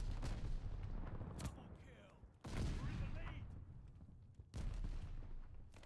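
A strafing-run airstrike in a first-person shooter map called Berlin booms in three heavy bursts of rolling gunfire and explosions, each hitting hard then trailing off, with faint talk underneath.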